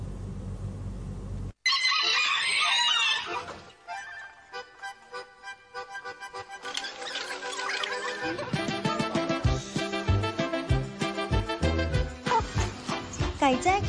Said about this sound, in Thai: ไก่แจ้ขาวหางดำและขาวที่ถูกเพาะและพัฒนาสายพันธุ์